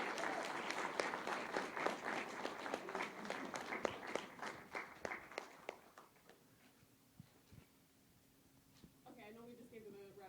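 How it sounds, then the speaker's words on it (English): An audience at an autism awareness talk claps in a round of applause that fades out over about six seconds, leaving quiet room tone before a voice begins speaking near the end. "I know we just gave them a round of applause"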